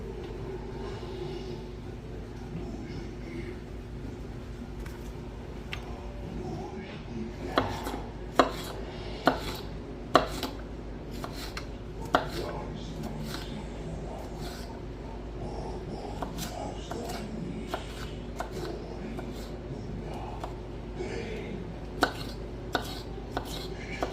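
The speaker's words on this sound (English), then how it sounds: "I will go about trying to see how I can cut up these awesome tiny little tomatoes" A knife cuts up small cherry tomatoes on a board in a quiet kitchen, with irregular close taps and chops that come more densely in the second half over a low steady background hum.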